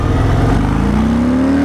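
A Harley-Davidson Breakout 114 motorcycle accelerates hard up close, its big V-twin roaring loudly with a deep throbbing note that climbs steadily in pitch as the revs rise.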